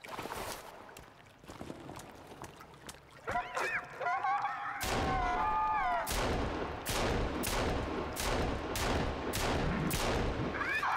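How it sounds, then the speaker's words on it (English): Pistol gunshots in the survival video game Sons of the Forest, a rapid series of sharp, loud reports fired in quick succession, with other game sounds and tonal effects between them. "Eight shots to kill them. That is a ton of bullets."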